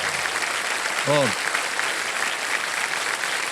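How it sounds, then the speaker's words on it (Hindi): Studio audience applauding on a televised quiz-show set, loud continuous clapping filling the clip while a voice speaks briefly over it. "तालियां बजती रहें देवी सज्जनों।"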